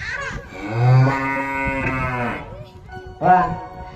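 A cow moos loudly and close by in a long, drawn-out call, followed by a shorter second moo.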